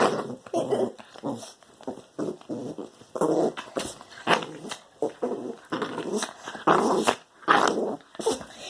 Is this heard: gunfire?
no